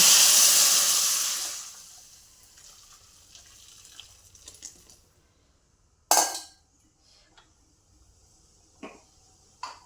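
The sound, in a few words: water added to hot tempering, sizzling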